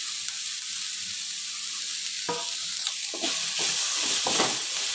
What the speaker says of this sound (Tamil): கேப்சிகம் வந்து ஒரு நிமிஷம் வதக்கியாச்சு